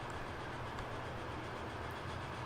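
Flying Scotsman steam train running in the Transport Fever 2 video game, a faint, steady rolling rail noise with soft clickety-clack under a broad wash of sound, continuous and alone.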